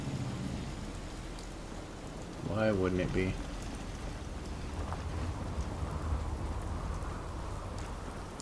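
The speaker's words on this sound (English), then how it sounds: "And of course it's raining." Steady rain falling in the video game Fallout 4, a continuous hiss running through the whole stretch, with someone speaking briefly over it.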